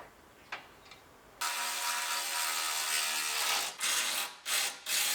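A ratchet tightens bolts on the bumper mount of an Acura RDX being rebuilt. A quiet pause gives way to a loud, continuous whirring mechanical run that breaks into short bursts at the end, with no voices.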